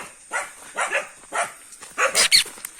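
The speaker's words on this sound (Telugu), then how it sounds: "సో మా ఫామ్లో కుక్కలు మమ్మల్ని చూసి అరుస్తున్నాయి దూరం నుంచి" Several farm dogs at night in a forest setting bark in repeated short bursts from a distance, moderately loud, with a cluster of sharper yips near the end.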